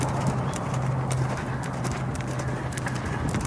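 Horse lunging at a lope in a working pen, its hooves drumming a steady, rhythmic beat on soft ground at moderate distance under a constant background hiss, with no talk.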